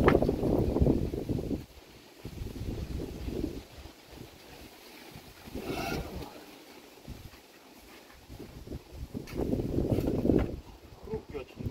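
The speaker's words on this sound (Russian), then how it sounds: "У нас сегодня такой ветер" Wind buffets the microphone in heavy low rumbling bursts that swell and fade, with quieter gaps between the gusts.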